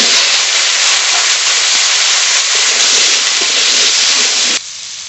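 Potatoes fry in fish oil with a loud, steady, broadband sizzling hiss that runs nearly the whole time and then abruptly drops to a much quieter simmer near the end. No voices are heard.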